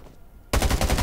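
Rapid automatic gunfire from a weapon in the video game Undawn bursts in loudly after a quiet half second and continues as a steady, dense rattle of shots to the end.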